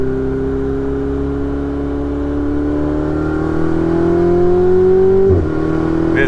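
Ferrari 488 Spider twin-turbo V8 pulling steadily while driving on a mountain road, engine note rising continuously as revs climb, loud and close, then a sudden break near the end as the driver lifts off or shifts.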